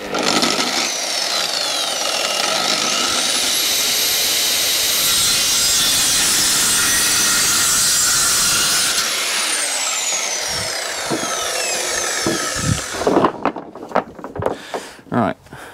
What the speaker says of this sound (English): Use me trusty old little special saw.